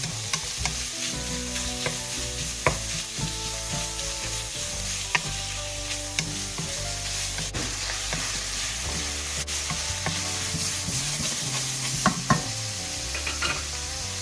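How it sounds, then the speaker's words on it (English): Sausage fries in a pan for penne alla vodka, sizzling loudly and steadily while a utensil breaks it up and stirs it, with scattered scraping clicks against the pan. "If necessary, use a fork or a potato masher to break the sausage into small pieces, stirring frequently."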